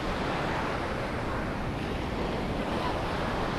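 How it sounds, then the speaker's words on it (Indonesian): Strong ocean surf crashes onto the shore in a continuous, dense roar, loud and close, with wind buffeting the microphone throughout and no voices. "Di situ ombaknya kencang."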